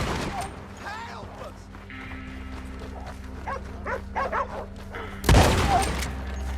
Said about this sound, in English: It's just dogs gone crazy.